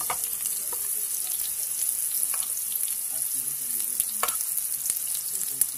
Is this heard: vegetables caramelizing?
yes